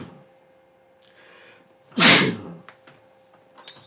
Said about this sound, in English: Excuse me, I had to sneeze.